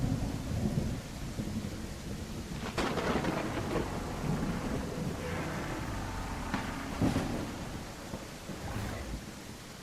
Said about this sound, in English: There's another storm though, which is scary.